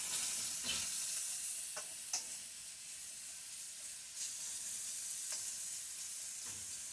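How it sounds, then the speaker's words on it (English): Mushrooms frying in a pan in a 1970s home kitchen give a steady close sizzle, broken by a few soft stirring scrapes and clicks, with no talking. "While we're waiting for the mushrooms to cook a little bit"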